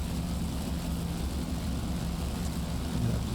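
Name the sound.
F4U-1D Corsair propeller airplane engine in DCS video game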